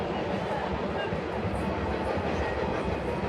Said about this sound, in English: Here comes our first train of the afternoon.